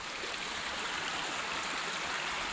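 A waterfall-fed mountain stream on a hike in Austria rushes steadily, a close, dense wash of flowing water with no pauses.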